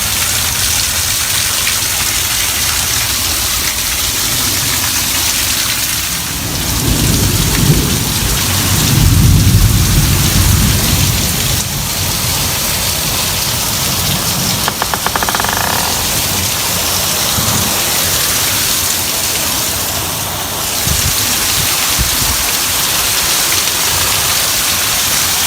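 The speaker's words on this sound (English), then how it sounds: "Roofs can't handle all the rain coming down." Heavy rain pours down on roofs during a thunderstorm, a dense steady roar that keeps up throughout, with low rumbles of thunder swelling beneath it in the middle.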